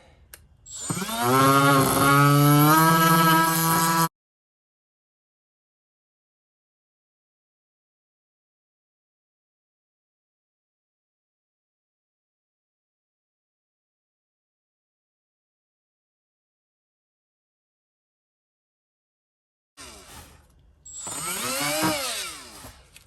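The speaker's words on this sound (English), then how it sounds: "I'm actually using this little tool here just to kind of grind it down here" A small carbide-tipped grinding tool whines loudly as it grinds down a part on a 1971 Chevelle, one burst of about four seconds, then a long silence before a second, shorter burst near the end.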